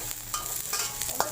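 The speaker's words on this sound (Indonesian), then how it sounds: "Kita masukkan bawang putih ya, digoreng dulu sampai wangi ya." Garlic and onion frying in a pan for pizza topping, a continuous close sizzle broken by a few light scrapes and taps of a spatula stirring, brief and without voices.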